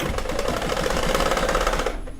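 Home sewing machine running with a fault after reassembly during quilt piecing, a loud close rapid mechanical chatter and knock that runs steadily for about two seconds and then stops, no talking.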